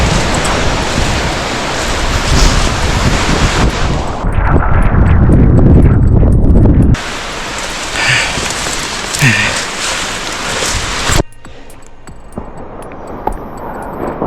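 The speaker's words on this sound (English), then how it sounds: "The only thing I know for sure is that this wind" Extreme windstorm on a mountain climb: loud roaring, buffeting wind noise that blasts the microphone continuously, with a heavy low gust in the middle before dropping to a lighter rush, no talk.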